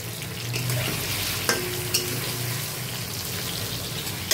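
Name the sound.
pumpkin frying in a pan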